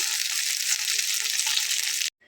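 Okra fried in hot oil for about ten minutes, giving a dense, loud, continuous sizzle close by that cuts off abruptly near the end as the pieces are lifted out.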